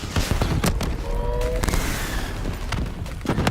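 Dense, continuous gunfire in Call of Duty Black Ops 3, a rapid crackle of shots with heavy low booms and small metallic whines, loud and close throughout.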